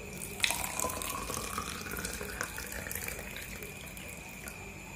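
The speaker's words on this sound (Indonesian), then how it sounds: "Selanjutnya untuk masing-masing cup ini kita isi air ya." Water runs steadily from a tap into small drink cups for coconut-flavoured drinks, a continuous close splashing stream with a brief clink near the start, no voices.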